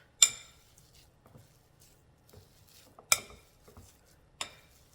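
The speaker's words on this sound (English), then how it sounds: "Let's get this mashed in together good." Cauliflower crust mixture with shaved Parmesan mashed together in a bowl, heard as a few sharp utensil knocks against the bowl with soft quiet scraping between them, close and sparse with no voices.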